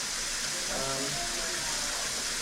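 A close, steady rush of hot water pours into a cooking pot of metemgee with pacu fish, a continuous bright hiss with a person speaking briefly over it.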